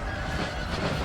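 Heavy cavalry charging in Napoleon: Total War, a dense, continuous low rumble of massed hooves with occasional horse whinnies over steady battlefield noise, no talk.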